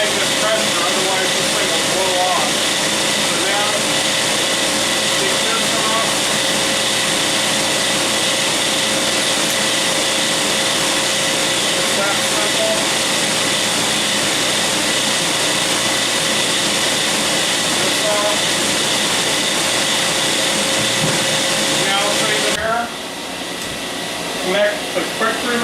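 A pressurized wax machine is emptied through its quick-release valve, giving a loud, steady rushing hiss with a faint tone that runs for over twenty seconds before cutting off abruptly.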